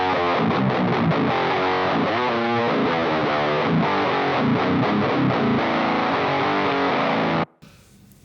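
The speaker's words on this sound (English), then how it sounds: "now we're playing the pedals into a boring sounding Class D amp" Swedish death metal guitar played through three distortion pedals into a plain Class D amp: dense, buzzing, heavily saturated riffing with chugging palm-muted passages, loud and continuous for about seven seconds before cutting off abruptly.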